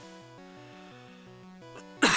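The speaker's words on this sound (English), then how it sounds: "I feel another cough coming on, hold on." A single sharp cough or throat clearing bursts out at the very end, loud and close, after a stretch of quiet chiptune music from the game Pokémon Brown.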